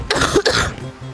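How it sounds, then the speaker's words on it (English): A person coughs twice in quick succession, close and loud, with a rough, throaty edge and a brief pause between the bursts. "I'm really trying to not cough so much"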